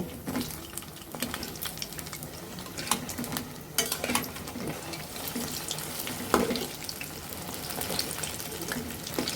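Snack dough frying in a pan of oil over medium to low heat gives a continuous close sizzle with scattered sharp pops and crackles, and no voices over it.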